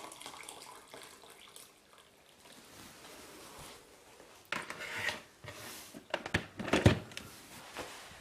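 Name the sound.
water poured into pot for vegetable soup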